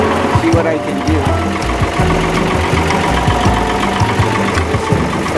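Tractor engine running steadily and loud while round hay bales are rebaled into small squares, with a rhythmic mechanical knocking throughout; a voice speaks over it.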